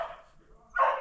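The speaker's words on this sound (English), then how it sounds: "He's been barking at the deer as I go by." A dog barks near a Mack engine repair, two short close barks separated by a brief pause.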